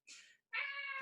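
A domestic cat gives two meows in quick succession, the second longer and more tonal. Both are close and clear, with no talk over them.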